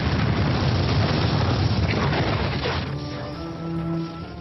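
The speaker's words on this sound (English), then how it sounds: "late one night there was a massive explosion." A massive explosion roars in a dense, loud rumbling blast that fills the first few seconds, then decays into a fading low rumble with faint ringing debris.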